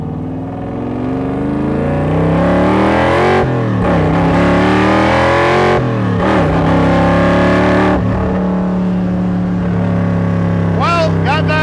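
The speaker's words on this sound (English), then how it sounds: "Factory Five Cobra time. I'll tell you what, this dude sounds fantastic." A Factory Five Cobra replica with a small-block engine idles loud and close, its deep burbling rumble rising in a few throttle blips and revs before settling back to idle.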